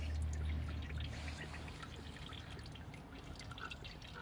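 Coolant drains out of a Renault 1.5 dCi cooling system in a quiet, continuous pouring trickle that runs the whole time, with no voices heard.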